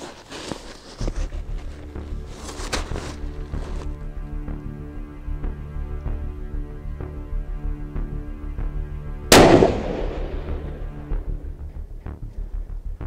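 A 16-inch-barrel .308 Winchester rifle firing 169-grain Sierra MatchKing bullets at a steel plate 1000 yards away gives one sharp, close, loud shot that decays quickly, set against a steady low hum.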